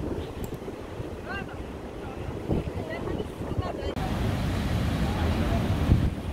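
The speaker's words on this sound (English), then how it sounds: "This is the Atlantic Ocean in its full glory." Atlantic Ocean surf breaks against rocks near the Swakopmund jetty in Namibia, a steady loud wash of waves with heavy wind buffeting the microphone and a few faint voices in the background.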